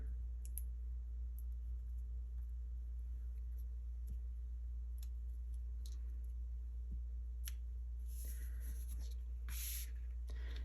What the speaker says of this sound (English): So I'll peel the release paper.